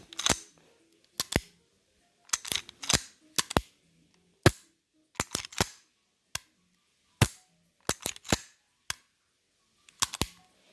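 Sig Sauer P220 pistol being function checked, decocked and dry fired in double and single action: about a dozen crisp, close metallic clicks and snaps at irregular intervals, alone with no talking.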